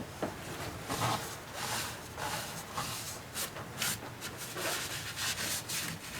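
A cloth rubs over a lacquer-finished woodturning piece in short, quiet strokes, a soft dry scrubbing that comes in uneven bursts, with no talk.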